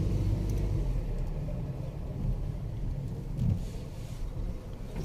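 Car near Medina driving and turning, a steady low engine rumble with road and wind noise that swells slightly midway, close and continuous, with no talking.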